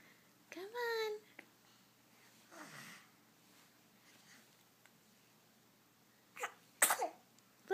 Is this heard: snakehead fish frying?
no